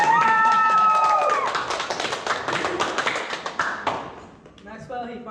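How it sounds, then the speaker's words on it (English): During an English class, students give a short round of applause, a burst of scattered hand claps after a voice, fading out within a few seconds as someone starts talking again. "Give Maxwell a round of applause."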